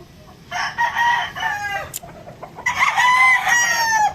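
A chicken clucks and squawks loudly and close by in two bursts, with a short pause between them.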